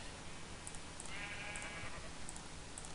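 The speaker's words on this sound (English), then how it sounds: "let's get some of these sheep back. Come on, sheep." Sheep in Minecraft bleat faintly over a soft background hiss, with a short, wavering call near the middle and no talking.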